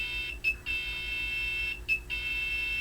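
A garage door sensor buzzer gives a continuous high-pitched electronic tone as a car nears within 250 to 400, broken twice by brief interruptions, steady and fairly loud.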